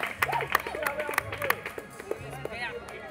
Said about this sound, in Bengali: জোরে হাততালি দেবে খুদে ক্রিকেটাররা